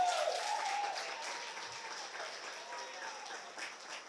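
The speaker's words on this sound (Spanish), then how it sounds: "Denle un aplauso al Señor." A church congregation at a national convention applauds in a sustained, even wash of clapping that fills the room, with voices faintly mixed in beneath it.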